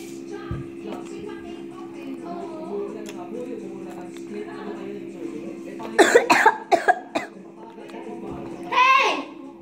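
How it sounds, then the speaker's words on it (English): A child coughs several times in a quick close burst straight into the microphone, loud and harsh against a quiet indoor background, with children's voices before and another rough cough near the end. "Did you cough right into it?"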